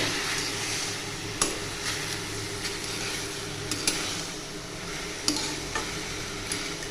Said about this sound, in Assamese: সকলোখিনি একেলগে দি দিলোঁ, দি পেলাই মই অকণমান লৰাই দিছোঁ ভালকৈ।